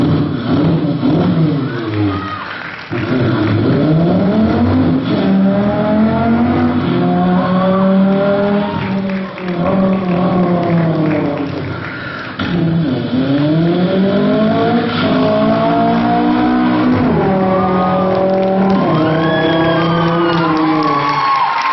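A man imitates a V8 car engine with his mouth: it starts up, revs with rising and falling pitch sweeps as it goes away, takes a turn, returns and passes by, loud and continuous for about twenty seconds.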